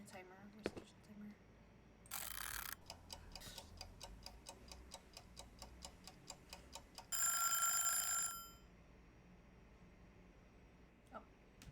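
A kitchen timer in the video game Adios ticks steadily and faintly for several seconds, with two brief bursts of ringing or buzzing breaking in over the regular clicks.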